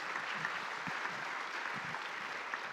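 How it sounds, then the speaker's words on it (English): Quiet, distant applause from a conference audience clapping for panelists at an ocean economy forum, steady and soft throughout. "Can you join us in giving a big round of applause to our panelists and Ambassador Peter"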